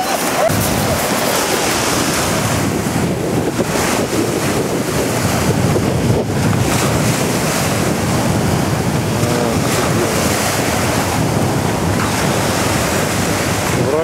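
Black Sea waves wash and splash onto the shore near Crimea with a loud, constant roar of surf mixed with heavy wind buffeting the microphone, no talk.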